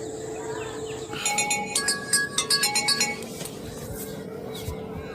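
A phone ringtone plays a bright, chiming melody for about two seconds over quiet background noise.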